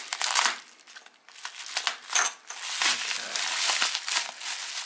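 An Opinel No. 5 carbon steel knife cuts open a package, producing close, loud crinkling and crunching of packaging material in uneven bursts with short pauses.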